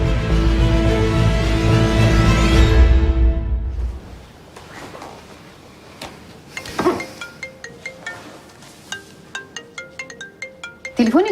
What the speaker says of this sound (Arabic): تليفونك بيرن.